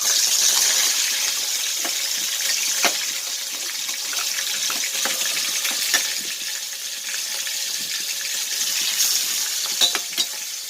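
Dried cod washed under a running tap, a steady gush and splash of water with occasional sharper knocks and handling sounds, close and continuous.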